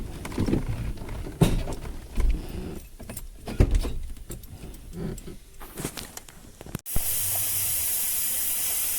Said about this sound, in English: That is hot. That is pressure. That's just blown a hose.